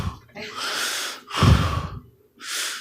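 A man mimics a heavyset barber breathing heavily into a customer's ear with three loud, close, breathy huffs separated by short pauses.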